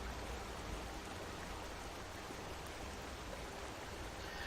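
A river stream in the Skyrim video game rushes with a steady, full hiss of flowing water, constant and unbroken, with no talking.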